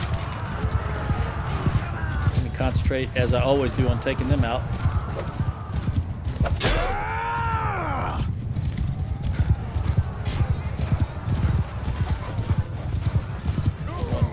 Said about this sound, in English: I did not notice that was a Vlandian horse troop.